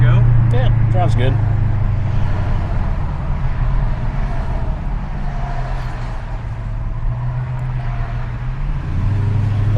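Stock 2014 Dodge Challenger SRT8 driving, a steady low engine hum and road noise throughout with a slight dip and rise, and a person speaking over it at the start.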